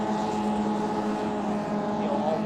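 Honda Fit race car engines rev high in a sim racing game at Canadian Tire Motorsport Park, a steady, sustained whine of several cars close together.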